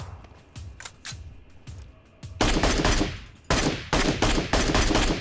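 Gunfire in the mobile battle game PUBG Mobile: a few scattered shots, then loud, dense bursts of rapid automatic fire in several close volleys.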